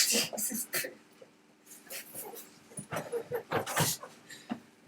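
A loose puppy roams a podcast studio, giving repeated short yips, whimpers and barks in bursts, fairly close, with background chatter mixed in.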